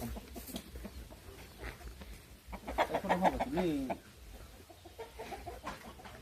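Chickens of an imported breed cluck in a farm pen, a burst of close, loud clucking and squawking in the middle with softer fowl calls around it, while someone talks before and after.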